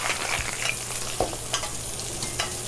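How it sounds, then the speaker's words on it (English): Chilean sea bass sears in a pan while browning butter is basted over it, giving a steady close sizzle and crackle with a few soft spoon scrapes. "So you can see my butter's getting nice and brown. I am just kind of basting the fish in it."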